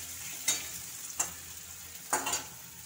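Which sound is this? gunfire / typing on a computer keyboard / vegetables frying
vegetables frying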